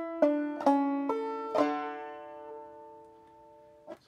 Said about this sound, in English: Takes us to the eighth measure, and that's our first ending here. That'll look and sound like this.